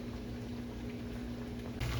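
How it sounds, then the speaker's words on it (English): A pot of water boiling for potatoes gives a soft, steady bubbling hiss with a low hum beneath, brief and continuous. "Water boiling for the potatoes."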